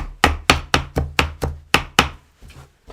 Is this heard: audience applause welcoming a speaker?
no